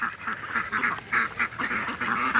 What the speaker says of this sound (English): this video is going to be very loud with ducks